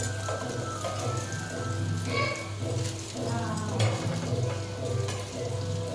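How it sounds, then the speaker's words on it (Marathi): Saundale fish fry in a hot pan in a village kitchen in Konkan, a steady close sizzle running throughout with a low background hum and faint clatter. "आता मी सौंदाळे फ्राय करून घेते"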